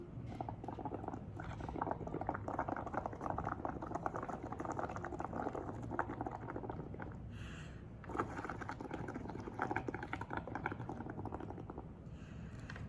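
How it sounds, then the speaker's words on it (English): Breath blown through a straw into a cup of ceramic underglaze mixture, a continuous near bubbling and gurgling that runs steadily, with a short pause partway through. "I'm just going to mix it up really good and then just start to blow"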